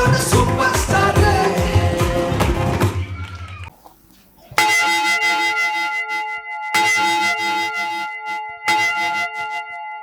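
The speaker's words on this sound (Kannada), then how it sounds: "ಏನಾಯ್ತು ಇವತ್ತು ಚರ್ಚಲ್ಲಿ ಬೆಲ್ ಹೊಡಿತಾ ಇದ್ದಾರೆ" Church bells ring at a Christmas celebration in Gauribidanur, with sustained metallic tones that swell and strike again in several distinct rounds after a dense, busy stretch of music and crowd sound at the start.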